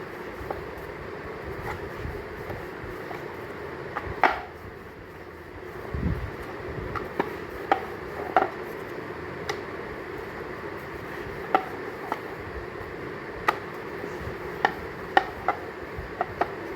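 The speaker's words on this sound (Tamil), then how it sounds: "இப்போ நீங்கள் சப்பாத்தி தட்டிக்கலாம்." Chapati dough is patted and rolled out on a board, giving faint, irregular soft taps and thuds over a quiet room hum, with no talk.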